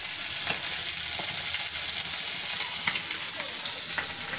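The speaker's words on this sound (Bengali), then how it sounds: "মাছ ভাজতে অলরেডি বসিয়ে দিয়েছি" Fish frying in oil in a pan, a loud, steady hissing sizzle with scattered sharp pops and crackles, close and continuous with no talk.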